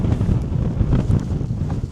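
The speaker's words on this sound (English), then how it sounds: "It's just getting windy." Strong wind buffets the microphone on the summit of Saddle Mountain on the Oregon coast, a steady low roaring rumble with gusty surges throughout and no talk.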